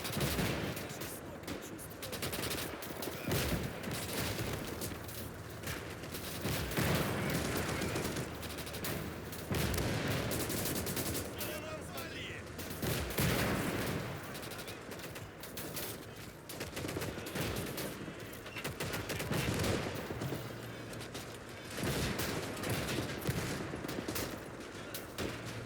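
Sustained battlefield gunfire in Call to Arms: Gates of Hell, with dense rifle and machine-gun bursts and occasional heavier booms rolling on without pause, loud and continuous throughout.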